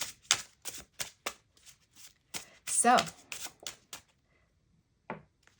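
A deck of tarot cards being shuffled in a series of crisp riffling bursts, close and fairly quiet, with a brief spoken word between the shuffles.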